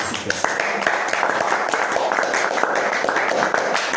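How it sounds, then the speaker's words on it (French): Congregation clapping along at a church worship service, a dense continuous patter of many hands with rhythmic accents, mixed with singing voices and hubbub throughout. "Applaudissons pour le Seigneur Jésus"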